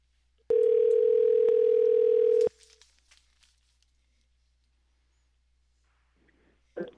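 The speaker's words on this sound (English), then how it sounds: "So bear with me here a second while we dial them up" A telephone tone is heard while a call is dialed to reach a band. A loud, steady tone holds for about two seconds, then quiet line noise follows with a faint click at the end.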